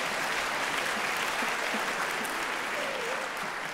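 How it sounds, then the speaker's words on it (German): A concert audience claps steadily at a classical orchestra event, a broad continuous wash of applause from a full hall that persists without a break. "so viel Applaus hatte ich noch nie."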